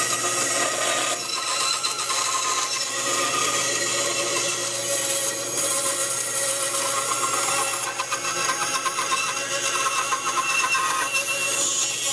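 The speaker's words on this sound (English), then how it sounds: "So I'm going to cut close to the line and I'll sand it off." Wood is cut close to the line, probably with a power saw, producing a loud, steady, harsh buzzing roar that runs continuously at close range with slight fluctuations and no speech.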